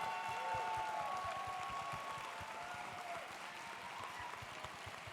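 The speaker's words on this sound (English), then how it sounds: "let's give a round of applause for all these students who are nominated by their teams" An audience applauds students nominated for the Dean's List by their teams at a regional tournament. The steady, fairly quiet clapping fills the whole stretch with no break.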